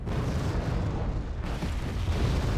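Continuous rumbling barrage of artillery explosions in the Wargame AirLand Battle video game, dense overlapping low booms filling the whole stretch at steady loudness with no speech.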